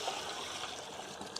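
Water pours steadily into a mixing bucket for cement render, a faint, continuous trickling wash with no break over a short stretch.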